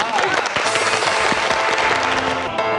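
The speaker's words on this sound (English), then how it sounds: "Another round of applause for that." Studio audience applauding after a live a cappella singing performance at a gathering, steady dense clapping filling the whole stretch, loud and close, with some voices mixed in.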